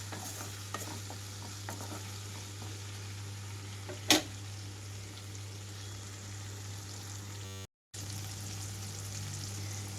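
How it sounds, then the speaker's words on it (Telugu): Bajji chillies frying in oil over a low flame, a continuous close sizzle with a steady low hum and one sharp clink partway through, briefly cut to silence near the end. "ఇలాగే మధ్య మధ్యలో కదిలిస్తూ వేయించుకుంటూ ఉండండి"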